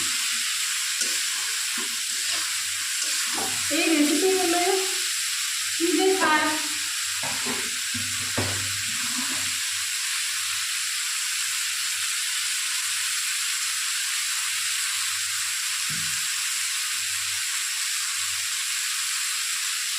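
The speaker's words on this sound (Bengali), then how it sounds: "হলুদ এটাকে আবার লাল লাল করে ভাজা ভাজা করে নেব" Turmeric and spices frying in oil in a pan for a Bengali fish curry, a steady soft sizzle and hiss running throughout, with someone speaking briefly over it in places.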